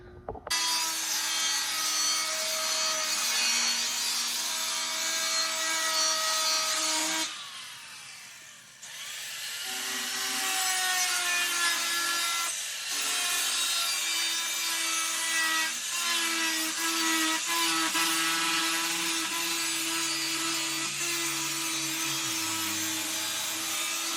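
A sheet of 16 gauge steel cut for a C10 fuel tank gives off a steady, loud, whining rasp that runs almost unbroken, with a brief dip in the middle before the cutting resumes.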